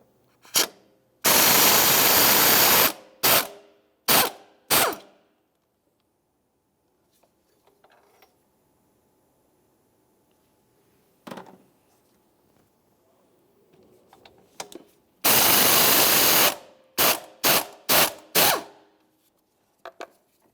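Ratchet with an 18mm socket working bracket bolts on a 2011-2018 Volkswagen Jetta, in two bursts of loud rapid clicking each followed by several short sharp ratchet strokes, with quiet faint handling noise between.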